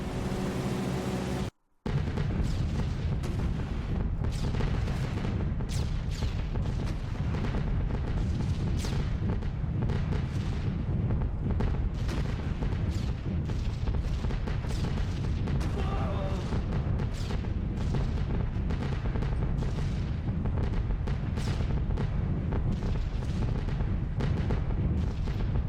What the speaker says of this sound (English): this flak is pretty heavy actually